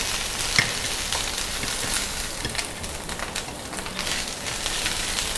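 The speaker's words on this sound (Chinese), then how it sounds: "香菇爆香一下。" Shiitake mushrooms stir-fry in a hot wok while making turnip cake, giving a steady, close hiss of sizzling oil with faint scraping and no talk.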